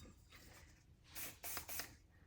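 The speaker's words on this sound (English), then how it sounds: "I'm using the texture spray once again to work this hair the way I want it." A can of texture spray mists onto hair during a sleek bun styling, giving three short hissing bursts close to the mic in fairly quiet surroundings.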